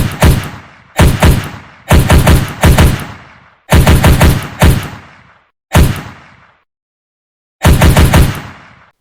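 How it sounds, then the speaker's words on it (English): Gunfire in a Unity shooter game, loud clusters of sharp quick shots in repeated bursts separated by brief silences, alone with no voices. "and then we should be able to accurately shoot."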